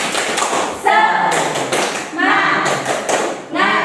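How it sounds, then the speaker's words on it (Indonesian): A school class performs a rhythmic 'tepuk semangat' clapping routine, with bursts of patterned hand claps and thumps alternating with children's voices chanting along in unison. "ayo kita tepuk semangat dulu. Ayo tepuk semangat."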